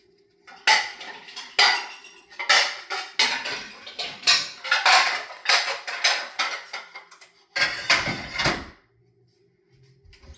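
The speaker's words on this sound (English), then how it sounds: "I had some dishes to put away." Dishes, pots and cutlery are put away during a kitchen clean-up after cooking chicken and rice: a series of loud, close clatters and clinks of crockery and metal in an uneven rhythm, then a drawer-like thud before it falls quiet.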